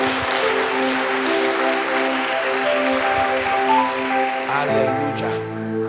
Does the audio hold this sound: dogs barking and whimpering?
no